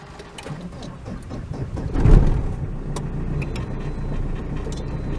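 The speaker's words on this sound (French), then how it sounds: "j'ai réussi à redémarrer ma voiture" A car with a flat battery, jump-started from a portable booster, cranks and catches with a brief low rumble, then settles into a quiet steady idle with faint clicks over it.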